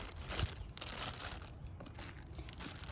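A plastic bag from an equine first aid kit crinkles and rustles continuously at close range, with soft irregular crackles and no talking.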